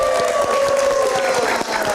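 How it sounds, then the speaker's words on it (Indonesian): Audience applause for guest comedian Adit Insomnia on a live comedy talk show, steady dense clapping throughout with a sustained tone ringing over it. "Kalau berikan tepuk tangan untuk Adit Insomnia"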